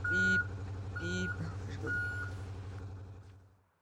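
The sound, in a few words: vehicle reversing beeps in Cargo Simulator video game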